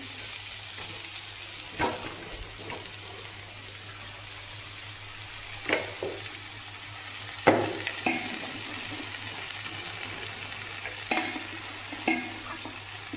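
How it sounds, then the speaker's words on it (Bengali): Winter vegetables with beetroot frying in a pan before greens go in: a soft continuous sizzle with occasional sharp spatula knocks and scrapes spaced a few seconds apart, close by, with no voices. "সবজিটা হালকা নাড়াচাড়া করে আমি এবার শাকটা দিয়ে দেবো"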